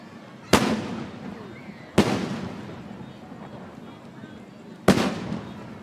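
Firecrackers go off in three separate loud bangs spaced a second or more apart, each with a sharp crack and short rumbling tail, over a steady murmur of a crowd outdoors.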